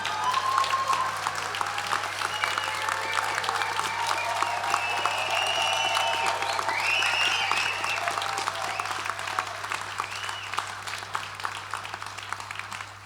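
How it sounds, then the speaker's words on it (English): Graduation audience breaks into sustained clapping with some cheering voices, a broad crowd applause that stays steady and slowly eases toward the end, heard from a distance in a large hall. "That's the point where you cheer and clap."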